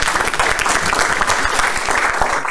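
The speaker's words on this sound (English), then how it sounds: "Let's give him a hand clap." Enthusiastic applause from a crowd at a school district board meeting award presentation, dense steady clapping filling the whole moment at close range.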